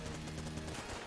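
Gunfire in Enter the Gungeon, a shot fired from a wall in a modded run where bullets rebound off walls; a dense, steady burst of game shooting noise with a low hum beneath, no talk.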